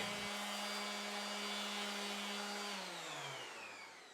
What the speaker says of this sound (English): take a fresh 80 grit pad and then go over this one more time so that on the metal itself it's a little bit etched